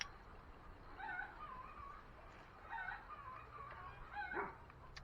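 Dogs at a rural property whimper and yip in short, faint, high cries scattered over quiet outdoor background noise, with a few separated bursts.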